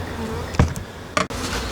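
Honeybees buzzing around a Flow Hive fitted with starter strips: a low background hum with a couple of brief, louder buzzes as bees pass close.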